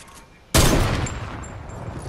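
A single sharp sniper rifle shot from the video game Fortnite cracks loudly and close, then trails off into a fading echo.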